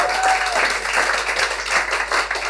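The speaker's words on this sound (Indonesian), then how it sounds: "Ayo tepuk tangan lebih baik." A church congregation at an Ascension Day service claps together in a dense, steady burst of applause, loud and reverberant, with little talk over it.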